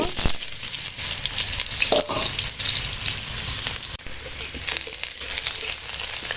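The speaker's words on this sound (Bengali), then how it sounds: "আলুটা ভেজে নেব" Potato frying in hot oil, a dense close sizzle with bursts of stirring and spatula scrapes, loud and continuous, no voices.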